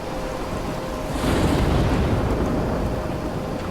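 Thunderstorm with crashing ocean waves in the video game Life is Strange, a loud continuous roar of wind, rain and surf that swells into a heavier rumbling surge midway, with no voices.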